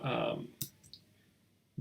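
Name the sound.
keyboard keys being pressed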